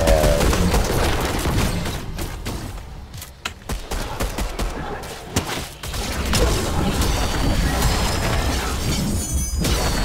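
Dense Fortnite gunfire in a horde rush fight, rapid automatic bursts and booms overlapping almost continuously, loud and close, with a brief lull midway before the shooting resumes.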